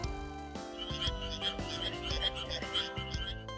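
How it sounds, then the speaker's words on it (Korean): A frog croaks in a quick rhythmic series of bright, raspy calls, close and loud, with no one talking. "아, 개구리 소리였네요."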